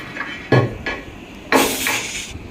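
A cast-iron dosa pan set down on a stove, giving two or three short metallic clanks and scrapes of iron against the burner, close and fairly loud, with no talk.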